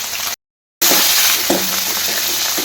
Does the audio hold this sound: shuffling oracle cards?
no